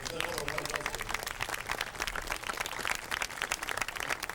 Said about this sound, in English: we'll just prematurely give Howard Armstrong a good round of applause before he gets there